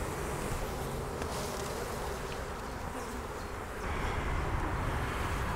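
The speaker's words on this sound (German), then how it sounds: "Die Bienen, die sterzeln." Honey bees fan in the honey super of a Franken hive, a steady, close, dense buzzing hum with a slight swell near the end.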